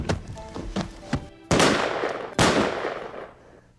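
Two loud gunshots ring out in a staged home-defense scene, each a sharp blast with a long decaying tail, following a few softer thumps and knocks.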